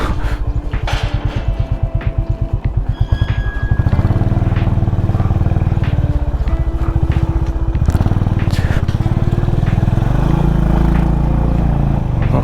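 A motorcycle engine chugs at idle nearby in a rural village in Arunachal Pradesh, India, with a rapid thumping pulse, then revs up into a steady louder drone.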